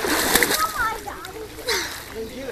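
A five-year-old boy splashes in a swimming pool while ducking underwater, brief close splashes and sloshing water mixed with an adult's voice and children's chatter.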